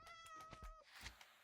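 A cat meowing in the Minecraft video game, a short tonal mew followed by a quieter second cry, faint, with soft clicks and background noise around it.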